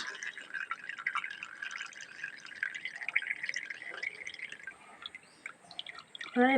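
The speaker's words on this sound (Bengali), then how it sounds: "এটাকে ছেঁকে নেবো দিয়ে জলটা নিয়ে নেবো লিকুইড জলটা" Fresh leaf juice drips steadily through a strainer in a home kitchen, a continuous trickling patter that stays close, ending with a brief louder clatter.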